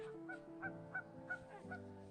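Faint, distant birds honk like geese in a quick, regular series of calls outdoors near a river in the Badlands. No cows are distinguishable.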